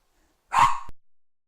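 A single sharp bark from a small dog indoors, close and loud, followed by a short breathy tail.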